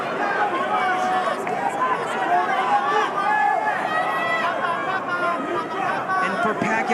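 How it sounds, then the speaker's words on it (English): A boxing arena crowd roars and chatters steadily throughout a professional fight, a loud continuous wash of many voices with a commentator talking over it. "Just listen to that crowd."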